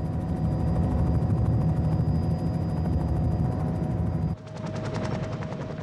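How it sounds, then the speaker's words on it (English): A helicopter carrying cougar cubs over the Idaho wilderness drones loudly and steadily with a rapid rotor chop, the tone shifting and dropping slightly near the end as it flies on; no talk. "The cubs are transported by helicopter to a remote area of the Idaho wilderness,"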